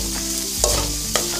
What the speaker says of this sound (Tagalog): Pagkatapos po hahaluin po ninyong mabuti ito.